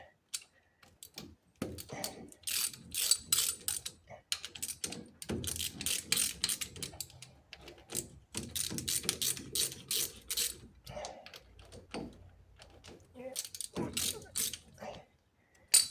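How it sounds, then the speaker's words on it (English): A hand ratchet clicks in quick bursts while loosening bolts on a 1927 Chevy axle, close and fairly quiet, with short pauses between runs of rapid pawl ticks. "we're going to take a ratchet and pull this apart"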